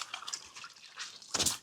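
Water drips and splashes from a papermaking mould and deckle as it is shaken out over a tub. A series of soft, close patters is followed by a louder splash at the end, with no talking.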